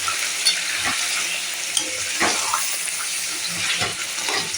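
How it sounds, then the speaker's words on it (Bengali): Mutton curry being stirred in a pan just after water is added, a steady wet sizzle with soft scraping strokes that runs without a break. "এবার সামান্য একটু আমি জল দেবো এর মধ্যে, জল দিয়ে একটু কষাবো।"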